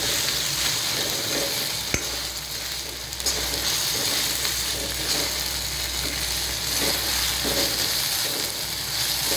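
Ginger, garlic and green chili paste sautéing in a pan for a surmai fish curry, giving a steady close sizzle with stirring scrapes and an occasional sharp clack of the spoon, and no voices.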